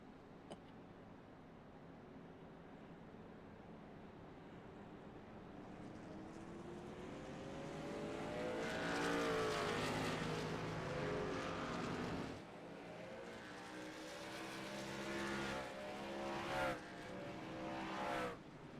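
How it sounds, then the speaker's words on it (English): Pace cars in the iRacing sim circle Atlanta, their engines a steady mid-level drone that swells and sweeps upward in pitch as the cars pick up speed, with several engines overlapping near the end. "iRacing needs to update their pace cars."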